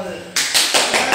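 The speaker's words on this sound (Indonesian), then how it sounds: "Iya, tepuk tangan ya." Applause in a teachers' training session, a small group clapping hands in a quick patter for about a second, close and fairly loud, right after a speaking voice.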